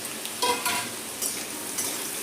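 Pumpkin pieces dropped onto fried garlic in hot oil and stir-fried, a soft continuous sizzle with a few brief scraping stirs close by, fairly quiet and without talk.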